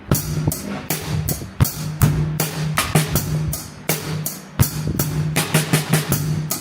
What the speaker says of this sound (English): This is what dry fill-in sounds like.